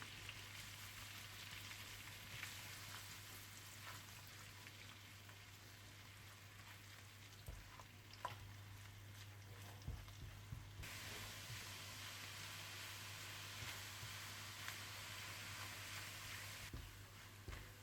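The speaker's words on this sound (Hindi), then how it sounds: "इसमें आप डाल दें लहसुन और इसे आप हल्का गोल्डन ब्राउन कर लीजिए।" Garlic sizzles softly in hot oil, a steady crackling hiss with occasional faint pops, quiet and continuous with no talking.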